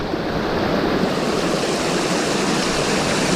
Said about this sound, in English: All right, water crossing number 1 for me. It looks doable.